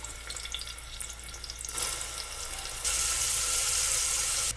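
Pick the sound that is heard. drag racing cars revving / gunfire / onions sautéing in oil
onions sautéing in oil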